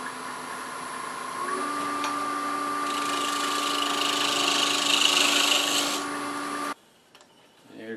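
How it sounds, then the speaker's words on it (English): Wood turning on a lathe, a skew chisel cutting a split-turned blank, gives a steady hum with a broad hiss of shaving and rubbing that swells midway, then cuts off near the end and leaves quiet shop noise. "Okay, so first we're going to finish turning it round, and we'll do that with a skew."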